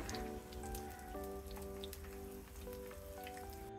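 Beguni, eggplant fritters, deep-frying in hot oil, a faint steady crackle and fizz beneath sustained background music tones, with no talking.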